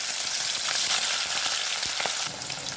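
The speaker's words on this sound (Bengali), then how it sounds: "তেল গরম হয়ে গেছে, এবার একে একে মাছের পিসগুলোকে দিয়ে দেবো।" Hilsa fish pieces fry in hot mustard oil in a kadai, giving a steady, close, crackling sizzle with small pops and no voices.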